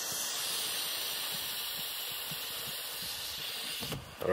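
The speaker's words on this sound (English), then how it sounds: "It's on deflate, and then you just flip it around and inflate," Self-inflating foam sleeping mattress valve drawing in air, a steady close airy hiss lasting several seconds before a brief handling knock at the end.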